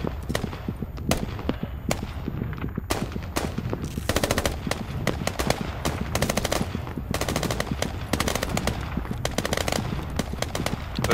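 Dense gunfire from a compound in the shooter game Squad, with rapid machine-gun bursts and single shots cracking almost continuously, loud and sustained with no gaps.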